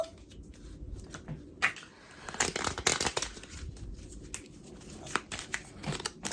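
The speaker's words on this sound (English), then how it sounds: "And now our final shuffle" A worn, bending deck of tarot-style cards being shuffled by hand, with irregular soft riffles and slaps, brief crisp bursts of card flutter close up against quiet pauses.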